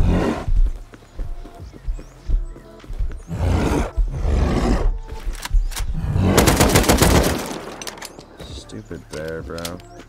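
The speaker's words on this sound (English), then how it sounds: "Bro, this bear is so annoying." A bear in the survival game Rust growling and roaring in loud bursts, mixed with gunfire and rough noisy clatter, while people talk excitedly over it.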